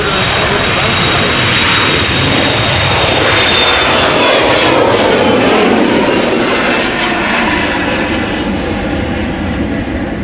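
A jet airliner departs Amsterdam Schiphol Airport, heard loud and close as a steady, broad engine roar that holds for the whole stretch with no talk over it.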